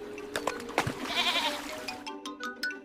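A goat on a farm bleats amid rustling and scattered clatter, a wavering cry near the middle over busy background noise.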